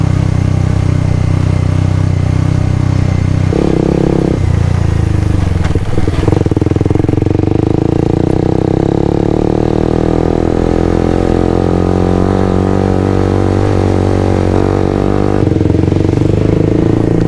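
Suzuki GSX-R150 motorcycle engine droning steadily while riding toward Lembang through farmland, loud and close, with a few gear-change shifts in pitch and no talking.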